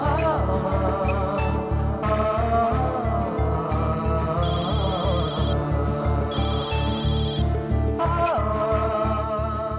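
A telephone ringtone plays while a call is being placed: a looping electronic melody over a steady pulsing beat, with bright chiming bursts repeating at regular intervals, loud and close.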